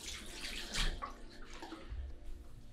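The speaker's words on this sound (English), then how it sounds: "I wet my hair." Running water from a faucet or shower soaking a man's hair during a morning hair care routine, a steady close splashing wash with brief louder bursts, no talking.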